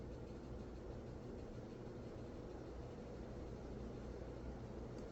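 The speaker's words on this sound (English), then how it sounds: "this fan does have a little bit of a hum to it" A Concord Builder ceiling fan running on high speed gives off a steady, low broadband hum and airy whoosh, constant and unchanging throughout with no voices.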